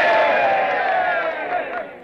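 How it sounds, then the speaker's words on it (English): A group of men in a 1945 film town scene lets out a loud, short cheer for a lady, a burst of shouting voices that fades out within two seconds. "A cheer for the little lady."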